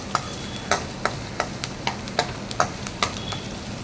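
Onion, garlic, curry leaves and green chilli are sautéed in oil for a yam mash dish, with a spoon scraping the pan in a steady rhythm of sharp clinks over a faint, low sizzle.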